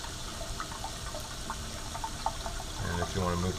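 Sediment-laden water is slowly poured into a water filter and drawn down into a flask below, a soft continuous trickle and gurgle under steady background noise, with a brief hum of voice toward the end.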